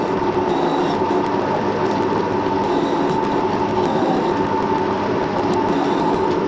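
A metal lathe with a three-jaw chuck turns steadily at 300 RPM, its cut running heavy. It makes a dense, continuous whirring and grinding hum at constant loudness, with no voices.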